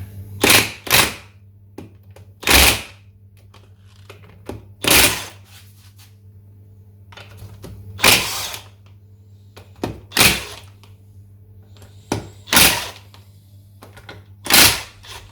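Bursts from a Mega Blaster impact wrench loosening crankcase bolts on a Triumph Trident T150V motorcycle engine during a rebuild, about eight short loud rattling blasts spaced a second or two apart over a steady low hum.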